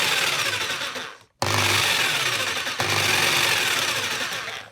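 A Bosch PST54E jigsaw, freshly fitted with new carbon brushes, runs with a loud, steady high-pitched motor whine, cuts out briefly and restarts, then hums on evenly with no voices.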